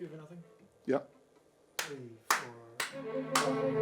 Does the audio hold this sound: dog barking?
no